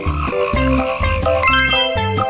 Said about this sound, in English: Frogs are amphibians that can jump great distances and make unique croaking sounds.